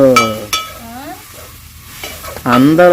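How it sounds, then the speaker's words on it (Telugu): Onion pieces sauté with salt in a pan, a soft stirring and frying sizzle at close range, heard under someone speaking. "ఉల్లిపాయ ముక్కలు మగ్గటానికి కొంచెం ఉప్పు వేసేసుకుందాం"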